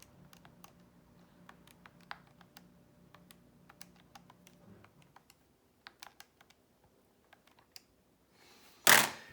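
Keys on a statistics calculator are tapped in a quiet stretch of small, crisp clicks at an uneven pace, with a faint steady hum early on and a louder rustling burst at the very end.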